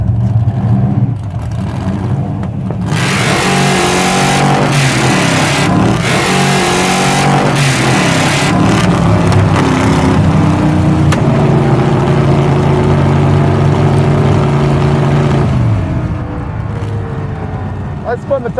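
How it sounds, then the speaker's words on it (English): A 1975 AMC Gremlin V8 roars through a sustained burnout, the engine loud and close with revving rises and falls, and tire screech and crowd noise blend in for nearly the whole stretch before it eases off. "good burnout."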